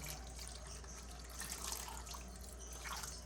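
Water poured from a tap into a cooking pot in a home kitchen, a close, continuous splashing stream that holds steady throughout with no talking over it.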